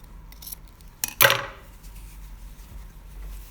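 Scissors snip through fabric while trimming a jetted pocket, a couple of close, crisp cuts with a brief rustle of cloth in a quiet room.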